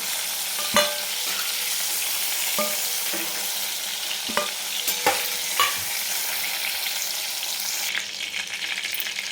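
Brinjal pieces sautéing in hot oil in a pan, a steady broadband sizzle with a few sharp spatula scrapes and stirring clacks scattered through, close and fairly loud.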